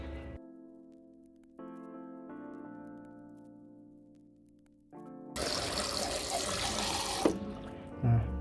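Nata de coco being rinsed clean in water: after a stretch of steady tonal hum, a loud rush of running water from a tap pours and splashes for a few seconds, then stops.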